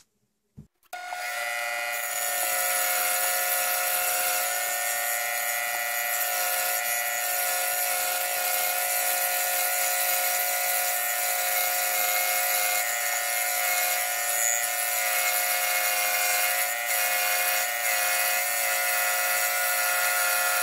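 Saw with a spiral blade cutting through MDF: a loud, steady high-pitched whine with dense tonal buzz starts abruptly after a second and holds continuously for about twenty seconds, close and alone.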